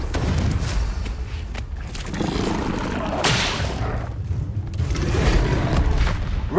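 Explosive Confringo spell blasts in Hogwarts Legacy during a Merlin trial: several loud, booming bursts with rumbling, crackling tails, crowded close together over a constant game backdrop.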